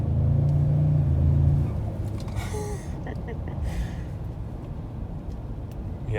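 A 2021 Ford F-150 engine pulls under acceleration while driving, a low steady rumble inside the cab that eases after a strong opening, with brief breathy voice sounds on top.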